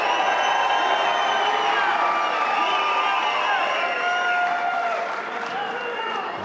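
USA fans on their feet at the 2019 Mosconi Cup pool match roar with loud, sustained cheering, whoops and applause filling a large arena, the crowd noise dense and continuous with a commentator talking over it.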